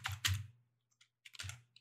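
Keys clatter on a computer keyboard while a terminal command is entered during a Raspberry Pi 4 RetroPie setup, in two short bursts of close, crisp clicks separated by a near-silent pause.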